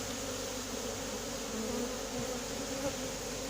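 A dense, continuous buzz of a honeybee swarm, loud and steady throughout, with no voices.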